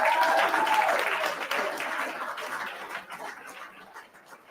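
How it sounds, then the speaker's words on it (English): Audience at a book-lovers' ball gives a round of applause, loud at first and gradually fading over several seconds as the clapping thins out. "These individuals deserve a huge round of applause for their hard work and dedication."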